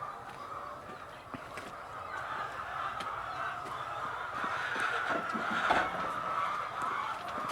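Hens cluck and squawk in a crowded chicken-farm coop in the Philippines, a busy continuous chorus of many birds heard up close, growing denser toward the end.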